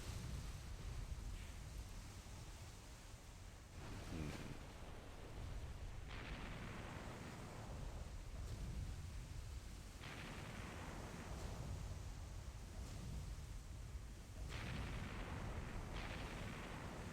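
Naval artillery booms out repeatedly in a historical Battle of Coronel naval strategy game, deep rolling blasts arriving every two to four seconds over a continuous rumbling din of distant gunfire, with no voices.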